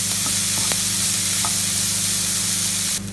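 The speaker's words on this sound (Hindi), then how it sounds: "उसको हम 3-4 मिनट तक फ्राई करेंगे ऐसे, लो टू मीडियम फ्लेम पे।" Prawn masala mixture frying in a pan over a low to medium flame, a steady loud sizzle with a few faint stirring clinks, and a sharper hiss near the end.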